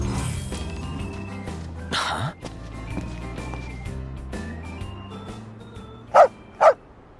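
A dog barks twice, sharp and close, near the end of a Final Fantasy XV game scene, following a stretch of low background music and effects.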